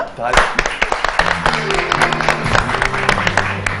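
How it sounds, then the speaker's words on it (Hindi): Studio audience applause on a Pakistani morning talk show: loud clapping mixed with a cheering voice and background music. "तालियां।"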